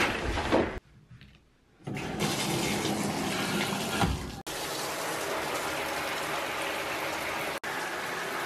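Shower water runs in a home bathroom, a steady hissing spray that cuts out briefly near the start, then resumes loud and close with a couple of brief breaks.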